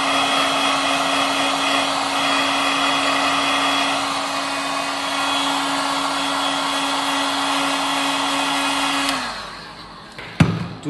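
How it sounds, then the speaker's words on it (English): A heat gun blows steadily to dry a repair on a wood-effect laminate worktop, a loud, close, even whine with a constant tone that cuts off near the end, followed by a few brief knocks. "what I use is this heat gun to dry it quickly"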